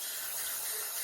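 Cold tap water runs steadily into a small pan of sliced potatoes, a close, even, hissing stream that lasts the whole moment.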